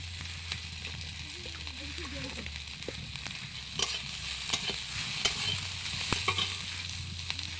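Chopped onions fry in a pan while a spoon stirs them repeatedly, giving a busy sizzle with frequent scraping and clinking strokes at moderate, close volume.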